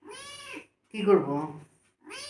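A house cat meows three times, close and clear. The cries are drawn out and tonal, and the middle one is the longest and loudest, with short silent pauses between them.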